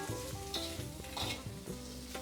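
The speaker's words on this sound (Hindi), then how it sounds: "2 मिनट भून के हम इसको साइड में निकाल लेंगे" Spices fry in a pan with salt, a constant sizzle while a utensil stirs and scrapes in quick strokes, under faint background music.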